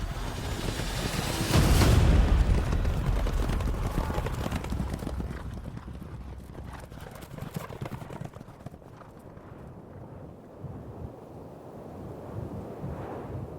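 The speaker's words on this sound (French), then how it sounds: "Darius fouette ses chevaux et prend la fuite, entraînant un mouvement de panique derrière lui." Horses galloping in panicked flight as a rider lashes them, with heavy clip-clop hoofbeats surging loudly near the start, then a dense, rumbling gallop continuing steadily and somewhat farther off, with some wind noise.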